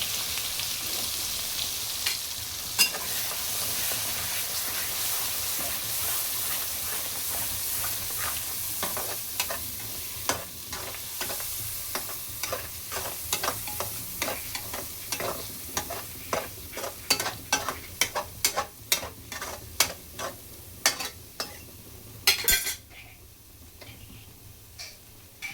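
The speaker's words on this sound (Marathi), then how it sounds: "असं थोडा मसाला फ्राय करून घ्यायचा आहे." Ground masala fries in hot oil and gets stirred, giving a steady sizzle with a string of sharp spoon scrapes and taps against the pan that bunch up toward the end, close by and with no one talking.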